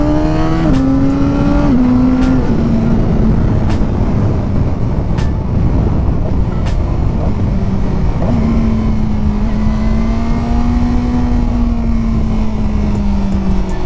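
A KOVE 450RR motorcycle engine drones loudly and steadily, its exhaust roar rising and falling through repeated gear changes as it pulls along, with sharp brief clicks over the continuous engine note.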